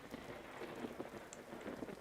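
Heavy rain pattering steadily on surfaces during a thunderstorm in the game Vintage Story, a dense continuous wash with faint low rumbles underneath and no voices.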